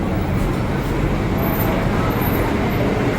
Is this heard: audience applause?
no